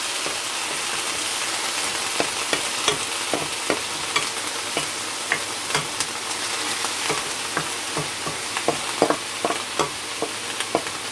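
Frozen callaloo greens hit a hot pot, making a loud, continuous hissing sizzle up close with scattered crackles and pops throughout.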